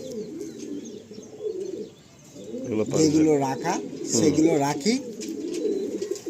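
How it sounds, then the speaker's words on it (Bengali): Domestic pigeons with clipped wings coo in soft, rolling bursts in a coop, mixed with someone talking close by over the birds. "এগুলো সব ঘরের পায়রা"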